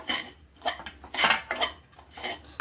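A spoon scrapes and clinks in a pan as sugar is stirred into bhakarwadi masala with the gas switched off, several quick close strokes in an uneven rhythm.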